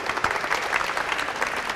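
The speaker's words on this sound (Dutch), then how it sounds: "Dus ik wil een speciaal applaus voor het team van Dr. Kwame van der Hils en alle andere vrijwilligers." Short stretch of steady applause from a group, dense overlapping claps at moderate loudness.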